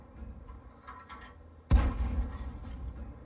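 An M10 Wolverine tank gun fires once in World of Tanks, a single sudden booming blast with a low rumbling tail, rising out of quiet background game sound.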